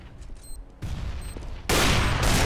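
Gunfire in Counter-Strike: Global Offensive comes in abrupt bursts that start, stop, then resume louder and continuous, dense and close.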